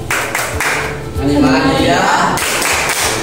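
Hands clap in a steady rhythm for a classroom taxonomy clapping chant about dog classification. A few sharp claps land close by while voices chant over them.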